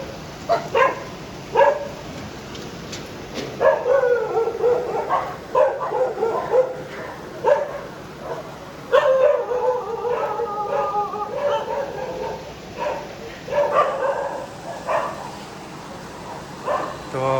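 Dogs bark, yip and howl outdoors on a morning in Ahmedabad, with repeated sharp barks and drawn-out whining calls coming in uneven bursts throughout.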